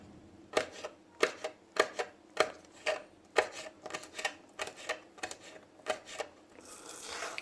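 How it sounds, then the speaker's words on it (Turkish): Knife finely chopping chili peppers on a cutting board, a steady run of crisp, evenly spaced chops, close and moderately loud in a quiet kitchen. "biberimizi ince ince doğruyoruz"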